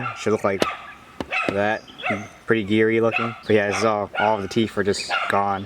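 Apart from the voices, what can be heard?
dog barking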